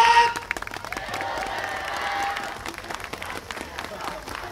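Audience applause and clapping at a festival dance performance by a team at Harajuku Omotesando Genki Festival, a dense wash of crowd clapping, loudest at first, with a voice talking over it throughout.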